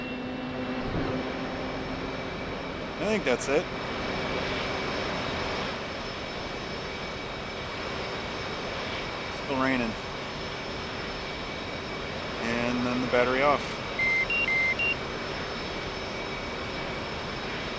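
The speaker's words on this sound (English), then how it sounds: "Shut down the engines." Aircraft jet engines in a flight simulator game, heard around shutdown: a steady, fairly loud drone with tonal whine, broken by a few brief clicks and switch sounds while someone talks quietly over it.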